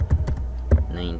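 Typing on a computer keyboard while entering a search, a few quick clicky keystrokes close by, with a low hum underneath.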